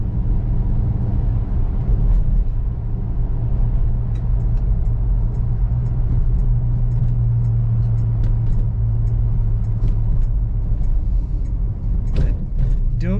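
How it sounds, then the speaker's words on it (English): A steady, low engine drone with deep rumble from a 1968 Plymouth GTX cruising at constant speed, loud and close, with faint clicks and rattles on top. "Today we're going to take a 1968 Plymouth GTX out for a cruise."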